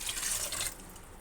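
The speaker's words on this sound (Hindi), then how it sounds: "इसमें डालूँगी पानी, ये 2 गिलास पानी है, ये डालूँगी" Water poured from a glass into a cooking pot holding mutton, ginger-garlic paste and onion, a short splashy pour that fades out near the end.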